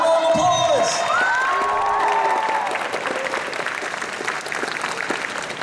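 Convention audience at an anime convention's opening ceremonies applauding and cheering, with voices and whoops over the start, then a steady, full crowd clapping that continues to the end.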